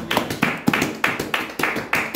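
Church congregation clapping in a steady rhythmic beat, about two claps per second, close and even, with no talk over it.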